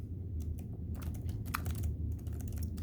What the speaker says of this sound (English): So basically, if you strike this keyboard,